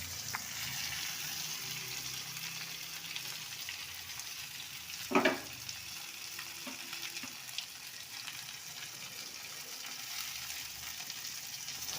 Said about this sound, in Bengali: পেঁয়াজ কুচি দিয়ে দিচ্ছি।